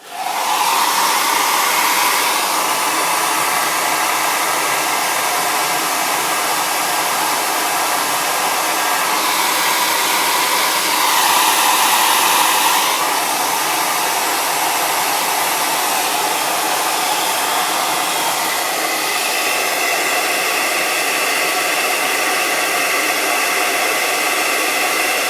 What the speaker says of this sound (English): Now for the heat shrink, I found that a hairdryer does a good job